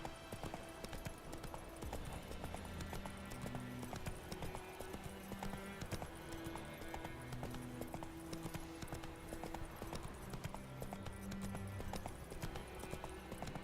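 Horse hooves gallop in The Witcher 3 video game, a steady rhythmic clip-clop running throughout alongside soft musical tones.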